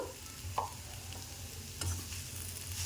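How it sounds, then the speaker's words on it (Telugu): Radish leaf curry frying in a pan, stirred and scraped a few times over a steady low sizzle, close up with no voices. "చూడండి ఇలా ఫ్రై చేసుకోవాలి ముల్లంగి ఆకు అండి"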